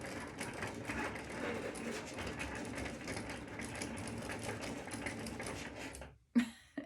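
Whirring, stuttering motor and carriage movement of a Cricut Maker 3 cutting machine running steadily up close, then stopping abruptly near the end with a brief clunk.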